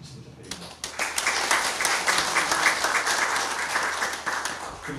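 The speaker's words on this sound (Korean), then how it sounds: "네, 박수 부탁드립니다" Audience applause at a Korean literary arts award ceremony, a short burst of clapping from a seated crowd that swells quickly and holds steady for several seconds.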